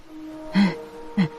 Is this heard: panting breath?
yes